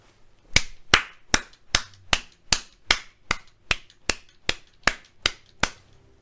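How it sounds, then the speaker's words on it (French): One person slowly claps about fourteen times in an even, deliberate rhythm, each clap sharp, close and isolated against near silence. "J'applaudis."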